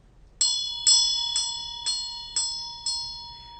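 A Tibetan Buddhist Dakini ritual bell is struck six times at a steady pace. Each bright metallic ring starts sharply, hangs briefly and decays in a quiet room, with no voices.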